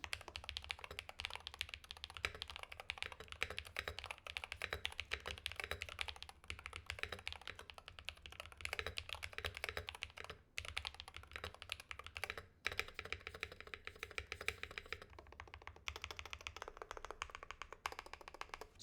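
Rapid, steady typing on a Luminkey Magger 68 Ultra Hall effect keyboard fitted with Jade Pro switches, dense overlapping keystrokes recorded up close and continuing without pause and without any voices.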